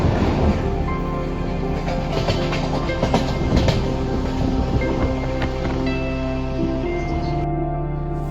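A passenger train on the Mumbai–Chiplun route, heard from inside a carriage as a steady loud rumble of wheels and rail noise that stays constant throughout, with no clear talk.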